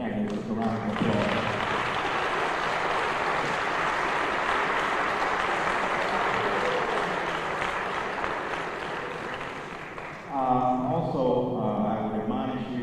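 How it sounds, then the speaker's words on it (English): A crowd at a mayoral debate applauds both candidates steadily for about ten seconds, a dense wash of clapping, then it fades as a voice starts speaking. "I think we're going to give both of our candidates a round of applause"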